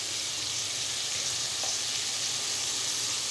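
Cabbage and carrot pieces sizzle steadily in a hot pan while baby corn biryani is being cooked, a continuous, even frying hiss with no talking over it.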